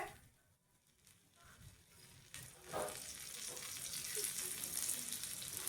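Thalipeeth flatbread frying in a pan, a quiet crackle that swells into a steady sizzle and stays even to the end.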